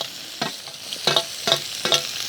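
Sliced onions fry in hot oil with cinnamon, fennel and cloves, for a Tamil crab gravy, hissing softly and steadily while a spoon scrapes and stirs the pan in several distinct, rhythmic strokes.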